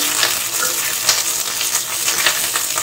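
Green chillies fry in hot mustard oil in a pan over a lowered flame, giving a steady, loud crackling sizzle with occasional sharper pops throughout, with no voices.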